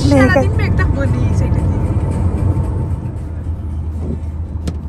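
A car drives along a road between Birmingham and Portsmouth in England, with a steady low engine and road rumble that continues throughout and a brief voice near the start.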